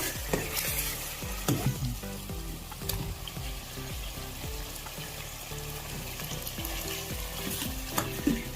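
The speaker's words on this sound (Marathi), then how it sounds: "आता आपण यात उकळलेले चिकनचे पीस टाकून देऊ" Boiled chicken pieces fry in an oily masala, a steady sizzle broken by repeated scraping and clanking of a spoon against the pan, fairly close, with no voices.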